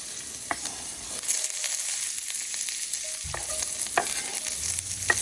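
Peppers and onions sizzle in a pan at a riverside camp in the Ozarks, a continuous hiss broken by a few brief stirring clicks and scrapes, close and fairly loud with no talk.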